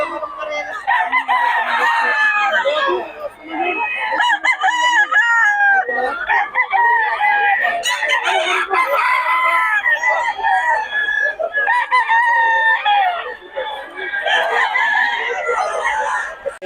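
Gamefowl roosters crow repeatedly at close range, their harsh drawn-out calls overlapping with clucks and other fowl sounds throughout, while people chat nearby.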